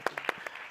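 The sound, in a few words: audience applause for Councillor Andile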